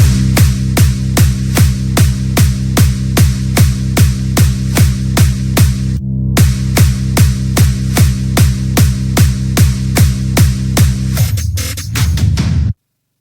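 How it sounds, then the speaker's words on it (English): An electronic drum section built in FL Studio, with a layered bassline under the kick, pounds out a loud, steady, fast beat. It drops out for a moment near the middle, then resumes until it cuts off abruptly at the end. "Now our drums section sounds like this."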